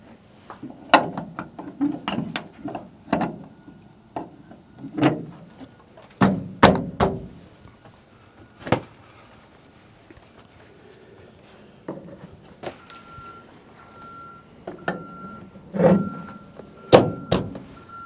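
A semi truck hooks up to a loaded trailer with a string of heavy metallic thunks and clanks at irregular intervals. The knocks are loud and close, with quieter mechanical rattles and brief hissing between them.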